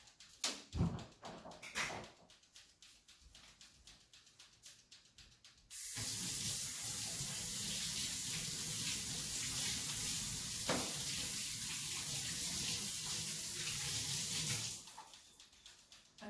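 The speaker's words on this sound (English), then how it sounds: "I'm going to actually wash my hands because we don't want raw eggs on our hands" Kitchen tap running steadily into a sink while hands are washed before cooking scrambled eggs, a close, even rush of water lasting several seconds after some quiet clatter and handling sounds.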